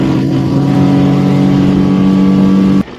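A Suzuki 40 outboard engine on a Ranieri Voyager 19S boat roars steadily at full throttle as the boat gets onto plane, loud and close, droning for nearly three seconds before cutting off abruptly.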